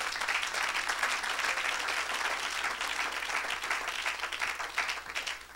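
A church congregation applauds and cheers for Jesus, a dense, continuous roar of clapping that fills the room evenly from start to finish.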